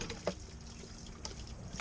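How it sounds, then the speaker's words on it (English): A faint stream of water trickles and splashes from an outboard motor's water pump outlet, soft and steady with a couple of brief louder drips. "So let's see if she starts and pumps water."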